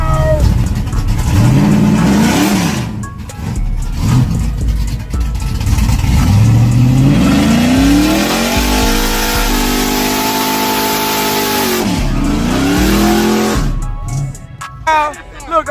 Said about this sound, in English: you revving the shit out that thing